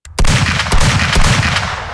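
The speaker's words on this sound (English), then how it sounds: "Mike awoke to the sounds of gunfire" A sharp gunshot opens at once, followed by several more cracking shots with a rumbling echo, loud and close, as part of a scary story set during the night.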